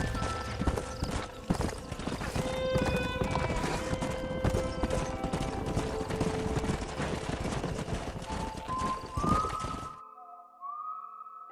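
Horse hooves clip-clop steadily and loudly while a horse is broken in Red Dead Redemption, with a whinny near the end as the sound cuts to near silence, followed by a faint whistle-like tone.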